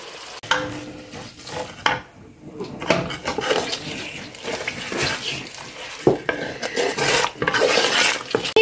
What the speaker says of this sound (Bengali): কষিয়ে নেব মশলাটা।